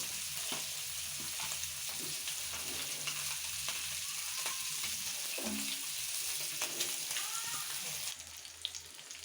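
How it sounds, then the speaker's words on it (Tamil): Fish fries in a pan for fish curry, a steady close hiss and crackle of oil running throughout, with a few soft clinks and stirring scrapes and a brief shift near the end. "இப்போ பார்த்தீங்கன்னா மீன் நல்லா ஒரு சைடு வந்து வறுத்து வந்தாச்சு, ஃப்ரை ஆகிட்ருக்கோம்"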